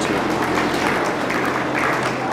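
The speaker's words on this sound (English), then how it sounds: "let's give these guys a big round of applause and all of our sponsors for today" A crowd at a county fair 4-H beef show applauds the sponsors in a short, dense burst of steady clapping.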